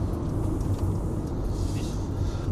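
Cars drive past in the background, a steady low rumbling road noise heard from inside a vehicle, fairly loud and continuous.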